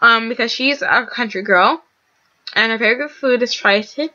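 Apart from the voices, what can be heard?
None of the usual background noises is heard.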